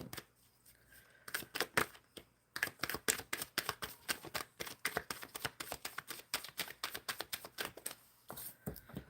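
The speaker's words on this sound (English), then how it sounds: "Shuffling for Dylan." Tarot cards are shuffled by hand in quick bursts of crisp riffling clicks, close and alone, with a brief pause near the start and again before the end.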